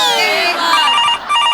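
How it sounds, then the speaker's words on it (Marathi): A telephone rings in a Marathi comedy sketch, a bright warbling electronic ring that sounds continuously and loudly with a brief break near the end. "प्रसाद खांडेकरचा फोन आहे, समीर चौगलेचा नाहीये."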